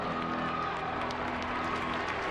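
A gymnastics arena crowd at the 2015 Pac-12 Women's Championships applauds and cheers steadily, a thick, continuous roar of clapping heard from within the stands.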